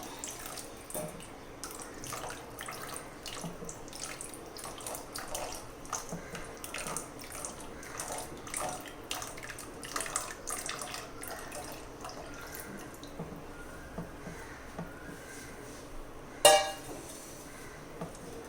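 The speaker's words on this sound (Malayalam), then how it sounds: "നമുക്ക് കുറേശ്ശെയായിട്ട് ഇതിലേക്ക് ഒഴിച്ചു കൊടുക്കാം." Boiled cow's milk is poured gradually into banana payasam (pazham pradhaman), giving a soft, steady liquid trickle with faint splashing and a single sharp clink near the end.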